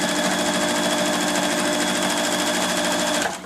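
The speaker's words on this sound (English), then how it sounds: "Then back under the machine" A sewing machine stitches down the edge of fabric for a small cosmetic bag, running in one steady, close whir for about three seconds before stopping abruptly.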